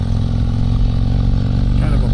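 Exhaust of a 2022 Harley-Davidson Street Glide Special rumbles loud and steady at cruising speed, a deep throbbing drone with wind noise and a voice talking over it.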